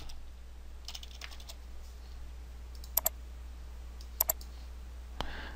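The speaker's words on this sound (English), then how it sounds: "Type in footer." Typing on a computer keyboard while building a page in Adobe Dreamweaver CS6, a few quiet scattered keystrokes with brief paired clicks, close and isolated over a steady low hum.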